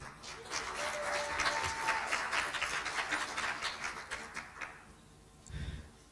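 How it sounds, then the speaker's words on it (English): Audience at an HIV and cure community conversation event claps together for about five seconds, a steady dense patter that fades out, followed by a brief low thump near the end. "Clap for ourselves."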